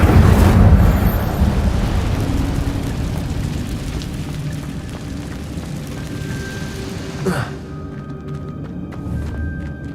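An Incendio fire spell cast in Hogwarts Legacy: a loud, rumbling whoosh of flame that bursts at the start and then roars steadily, with a brief crackling flare late on.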